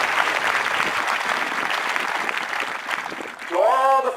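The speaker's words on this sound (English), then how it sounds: "a round of applause for you." Loud, dense applause from a large audience at an Air Force basic military training graduation ceremony, continuous throughout, with a voice rising over the clapping near the end.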